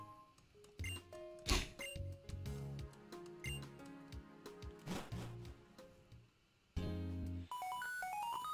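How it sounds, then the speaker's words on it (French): A phone rings in the Pokémon White 2 video game as a bright electronic jingle of rising beeps near the end, preceded by chiptune game music with plinking notes and soft percussive hits. "Ok, on décroche le téléphone"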